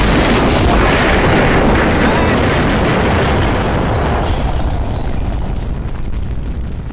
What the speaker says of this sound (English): got hit with the loudest jump scare in the history of jump scares